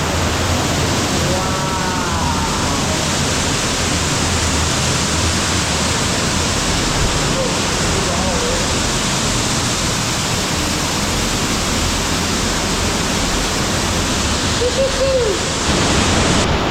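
A loud waterfall thunders inside a cave in Bali, a dense, steady roar that fills the space without letup from start to finish, with only faint traces of a voice briefly beneath it.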